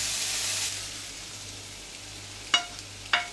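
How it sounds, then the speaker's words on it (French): Vegetables sizzle in a hot frying pan, a bright hiss that fades after the first moment, followed by two quick scraping clinks near the end. "Il faut absolument que les légumes chantent et que la poêle soit suffisamment chaude."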